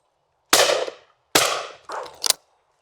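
Browning shotgun fired at a clay shooting World Cup final, two sharp loud blasts about a second apart, each ringing out briefly, followed by a short clatter of handling sounds.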